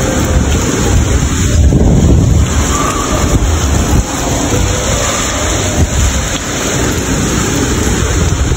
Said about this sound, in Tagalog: palakas masyado itong ulan at saka sinasamahan pa ng hangin